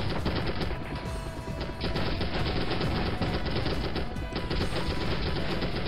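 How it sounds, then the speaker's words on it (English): M16 fire in the 1998 video game M.I.A. Missing in Action: a dense, continuous rattle of automatic shots, loud and unbroken for the whole stretch with no voices. "the other guy is just wasting ammo with his M16"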